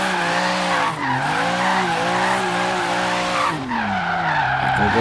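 A BMW M3 E36 drifts under handbrake in the Forza Horizon 3 racing game, its engine a loud, sustained, rising and falling drone with tire squeal, easing briefly near the start and again toward the end.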